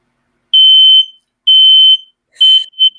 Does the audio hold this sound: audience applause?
no